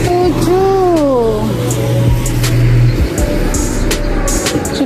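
A car passes on Sanmin Road in Baozhong, Yunlin, Taiwan, on an overcast, drizzly day, its engine hum rising and falling close by, with a steady low drone and other traffic noise continuing throughout.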